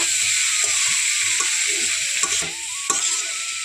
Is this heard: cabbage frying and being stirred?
yes